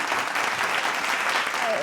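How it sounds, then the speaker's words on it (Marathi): Loud, steady applause from an audience at a Marathi award ceremony, a continuous dense clatter of clapping lasting the whole moment without pause. "जोरदार टाळ्या मंडळी"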